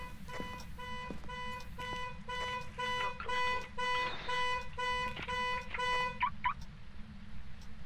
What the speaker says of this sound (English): It's messing with the car alarm again.